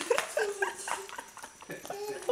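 A dog gives several short high whimpers and yips close by, interspersed with people talking.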